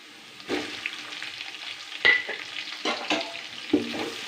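Onions fry in hot oil with ginger garlic paste for Hyderabadi chicken dum biryani, a close sizzle broken by several louder stirring scrapes and crackles, with no talking.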